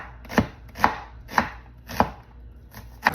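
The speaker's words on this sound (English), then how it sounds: "we have our onion sliced" Knife chopping through strong onions on a cutting board, five sharp evenly spaced thumps with brief crisp slicing noise, close and alone.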